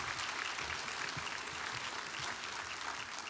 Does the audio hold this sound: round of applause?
yes